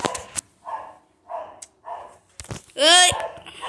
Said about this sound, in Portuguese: Os cachorros não param de latir.